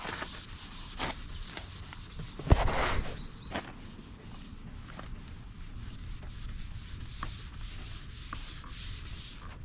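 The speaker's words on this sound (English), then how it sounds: "you wanna go around and just scuff up the area. You know, make sure there's no shine left at all." Hand scuffing of the car body paint on a 2006 Porsche Cayenne with fine-grit sandpaper before painting: a soft, steady close-up rasp of rubbing, with one louder scrape partway through and no talking.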